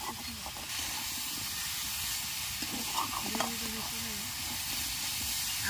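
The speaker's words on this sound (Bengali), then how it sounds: "এবার দিয়ে দিচ্ছে ফুলকপি। ভালো করে কষিয়ে নেবে।" Cauliflower florets frying and being stirred in a pan with potatoes, a steady close sizzle and hiss with scraping stir strokes, while faint voices murmur in the background.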